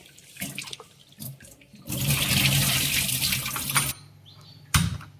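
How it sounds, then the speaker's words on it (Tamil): Water splashing and running as seeraga samba rice is washed for vegetable biryani, a few short splashes then a steady rushing stretch of about two seconds and a final brief splash, close and alone without talk. "இந்த அரிசி, சீரக சம்பா அரிசியை வந்து நல்லா கழுவி கொஞ்சம் நேரம் தண்ணியில் ஊற வச்சுக்குவோம்"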